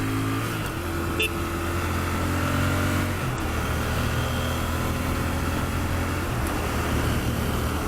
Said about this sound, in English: This bike does not mind revving.